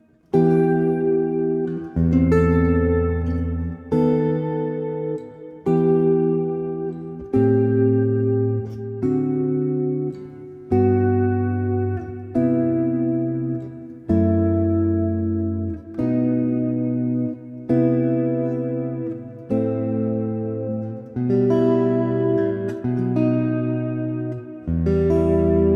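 A Baroque-style cycle of seventh chords is played solo on a keyboard at a slow, even pace. Each chord is held for about a second and a half and rings out cleanly with no talking, running for about twenty-five seconds.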